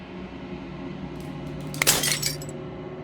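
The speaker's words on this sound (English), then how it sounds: "As the final fragment of glass shatters, you see yourself with newfound clarity." Glass shatters in the video game Slay the Princess: a sharp crack followed by a brief spray of tinkling fragments over a low, steady ambient drone.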